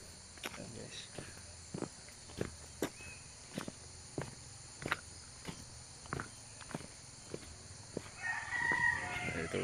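Roosters and chickens on a mountain farm crow and cluck faintly in the distance, while nearby footsteps thud at a regular pace beneath them and a steady insect-like hiss hums in the background.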